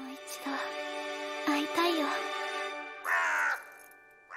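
Crow in the anime Oshi no Ko giving several harsh caws in short separated bursts, fairly quiet, with some voice mixed in.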